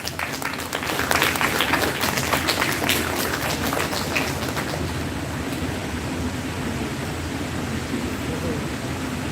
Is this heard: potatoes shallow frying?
no